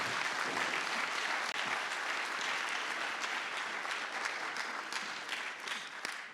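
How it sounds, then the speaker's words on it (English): Sustained applause from a conference audience, a dense even roar of many hands clapping that holds steady for several seconds and tapers slightly at the end, with no talk over it. "On leur fait un tonnerre d'applaudissements."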